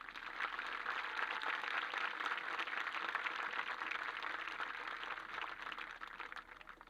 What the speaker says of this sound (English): Please join me for a round of applause for all of our honored guests